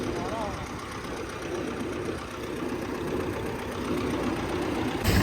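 An old 1970 model tractor engine runs at a low, steady idle with a continuous rough mechanical rumble, heard close and alone throughout.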